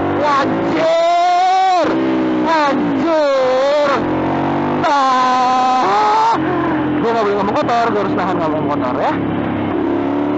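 A Ducati Monster 795 motorcycle revs and accelerates hard in loud, close, rising engine sweeps that break off between gear changes, while someone talks excitedly over it.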